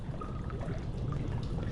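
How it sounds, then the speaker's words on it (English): Steady wash of pouring water in a dark underground setting from Amnesia: The Dark Descent, an even, continuous trickle heard close and alone for the whole stretch. "There's water here."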